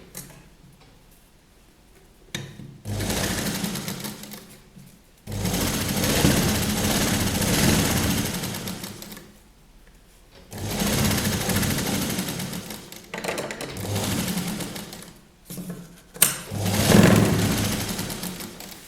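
A sewing machine runs a straight seam on a child's salwar in several long bursts, loud and steady with pauses between runs, its motor hum and rapid needle ticking close by.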